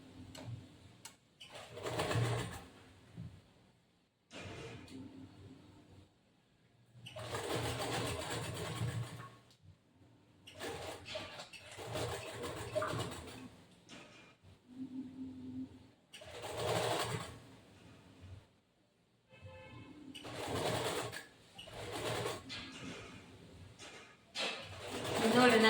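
A sewing machine stitches the lining of a boat neck blouse, running in several slow bursts separated by pauses, with someone talking in between and birds cooing faintly in the background.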